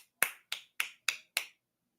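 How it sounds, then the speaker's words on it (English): Five sharp hand claps shown as a demonstration at a Mississippi State vs Auburn college baseball game, evenly spaced about a quarter second apart, crisp and close with no talk over them. "Can you demonstrate those two claps for us?"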